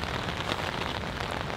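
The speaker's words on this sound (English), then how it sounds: "it was only a moderate rain event" Steady, dense hiss of moderate rain pattering on the fly of an MSR Zoic 2P backpacking tent, an even close wash of drops with no pauses and no voices.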